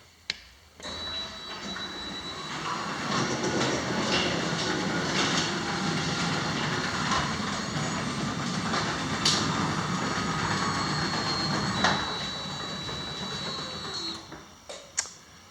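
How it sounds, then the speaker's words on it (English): A Ryobi garage door opener runs the door's rollers, which rumble and clatter steadily along the track for about fourteen seconds, ending with a few sharp knocks as the door stops. "most of that noise is just the rollers going on my garage door track"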